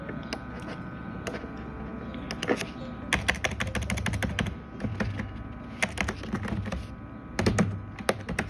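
Fast typing on a computer keyboard, bursts of close, crisp key clicks with short pauses between words, steady and fairly loud with no voices.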